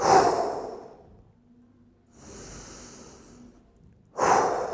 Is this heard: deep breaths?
yes